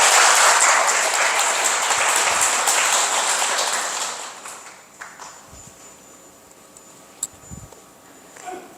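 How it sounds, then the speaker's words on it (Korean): Audience applause at a weekend family dharma gathering at a university temple hall, a steady broadband clapping from many hands for about four seconds before fading out into a quiet room with a few stray sounds. "박수를 쳐주셔도 돼요"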